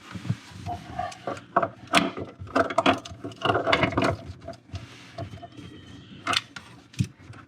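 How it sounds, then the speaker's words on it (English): Vice grips work loose the nuts under a kitchen faucet, giving close metallic clicks, scrapes and knocks in irregular bursts with short pauses. "I'm going to take this my vice grips here, and I'm going to loosen up these nuts"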